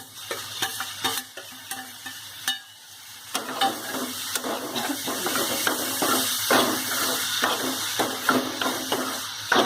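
Mung sprout vegetable sautés in a pan, with close spatula scrapes and taps in an uneven rhythm over a sizzle that grows louder and more continuous after the first few seconds.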